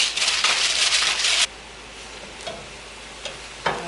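Venison chili stirred in a pot, a broadband scraping swirl for about a second and a half, then quieter with a few brief scrapes and taps of the spoon against the pot.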